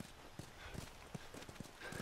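Horse hooves clip-clop in The Last of Us, a steady run of distinct, fairly soft hoof strikes at an even walking rhythm with no talk over them.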